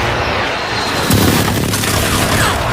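Booming precision-bombardment explosions in a video game, a dense continuous rumble that swells louder and heavier about a second in and keeps pounding to the end, with no talk over it.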